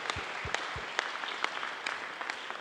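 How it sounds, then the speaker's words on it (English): Church service congregation clapping, a few sharp, distinct claps at first followed by lighter scattered clapping at moderate distance, fairly quiet overall. "Yes, clap, clap, clap, clap, clap,"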